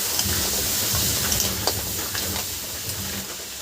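Crab pieces sautéed slowly in a pan for a Sundarbans-style crab dish, giving a steady close sizzle and hiss with faint stirring scrapes throughout.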